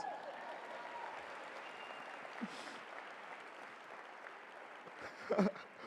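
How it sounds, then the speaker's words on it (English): Steady applause from a large audience at the Cal Poly university convocation, a fairly distant, even wash of clapping that continues throughout, with a few louder claps near the end. "give her a round of applause"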